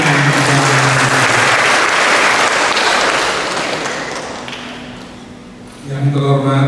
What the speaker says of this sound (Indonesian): Boleh kita sambut dengan tepuk tangan